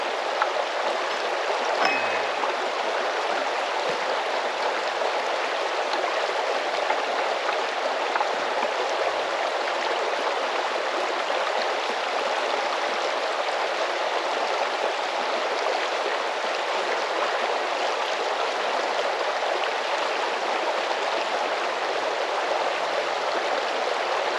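Steady rushing water flows continuously while an off-grid water hose is primed, a full broadband wash like a stream or strong tap running, with no talking over it.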